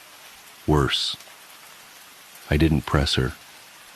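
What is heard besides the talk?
rain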